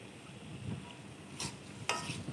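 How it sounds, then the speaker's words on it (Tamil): Masala being stirred in a cooking pan, a soft scraping and faint sizzle with a couple of brief sharper scrapes, quiet and close. "நல்லா கிண்டுங்க."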